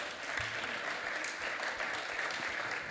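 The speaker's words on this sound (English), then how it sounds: "He deserves a round of applause" Audience applause at a museum speaker series event with racing drivers Bobby Unser and Al Unser Jr., a steady, even patter of clapping heard from a moderate distance throughout.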